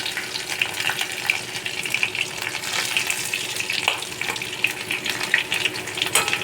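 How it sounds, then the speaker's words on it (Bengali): Garlic hits hot oil with cumin and sizzles and crackles continuously in the pan, a steady bright frying hiss with small popping spurts, close by. "জিরেটা ভাজা হয়ে গেছে এবার আমি রসুন দিয়ে দিলাম"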